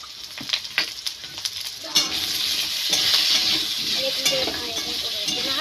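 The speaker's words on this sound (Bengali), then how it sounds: "লাল লাল করে ভেজে নেব আলু, লবণ, হলুদ গুঁড়ো" Potatoes with salt and turmeric sizzle in hot oil in a pan, a steady close hiss broken by stirring scrapes and clinks, with no talk.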